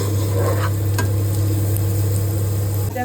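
Onions frying in a pan for a meat dish, a steady close sizzle with a faint stir or scrape, under a constant low hum, with no talking.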